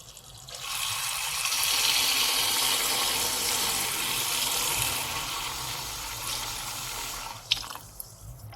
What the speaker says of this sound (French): on va juste mettre de l'eau.